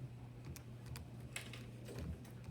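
Fingers tapping the keypad of a calculator while entering a math integration problem, a scatter of quiet, quick key clicks over a low steady hum.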